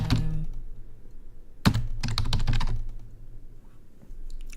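Computer keyboard typing close by, a few quick bursts of clacking keystrokes with pauses between them and a low hum underneath, no speech.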